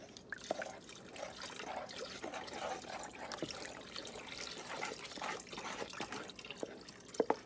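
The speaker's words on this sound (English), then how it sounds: "I'm adding 4 cups of beef broth to this" Beef broth poured into a pot of wild mushrooms, a soft continuous trickle and splash with scattered drips, faint and close with no voices.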